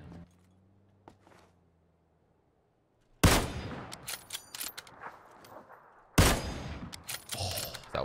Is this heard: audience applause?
no